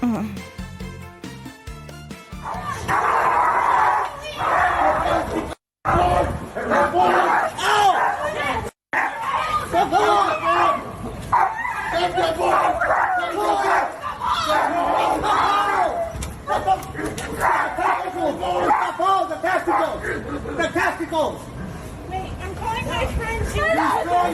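A pit bull savages a golden retriever as people rush to intervene, loud chaotic shouting and crowd clamour with barking running almost continuously, broken by two brief silences.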